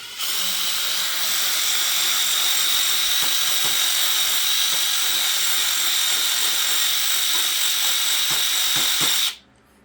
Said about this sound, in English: I'm just taking a steel brush that chucks up in my drill here